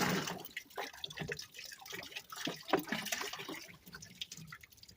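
Liquid splashes and drips as a quart of hydrogen peroxide is poured, with an uneven run of wet spatters and trickles close by at moderate level and no talk.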